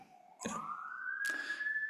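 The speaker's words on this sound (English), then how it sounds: "as this very loud siren goes right by my house" A loud emergency siren sweeps past a house, its rising wail climbing steadily in pitch and growing closer, with brief bursts of broadband noise around it and no talking.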